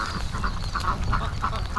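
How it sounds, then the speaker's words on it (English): Ducks quack repeatedly in steady rain, a run of loud nasal calls in an irregular rhythm close by over a constant wash of rainfall and muddy splashing. "the ducks are like embracing it"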